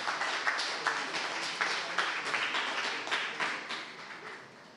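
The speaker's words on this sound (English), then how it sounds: "let's give a hand of applause to yourself" Conference audience at a keynote event giving a sustained round of applause, a steady patter of many claps heard at moderate distance, fairly soft and even throughout.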